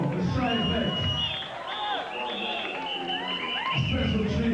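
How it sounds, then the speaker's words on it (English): A crowd at a 1994 jungle music event cheers and whoops loudly, a dense wash of excited voices with high shouts rising above it. "Let's give a big round of applause"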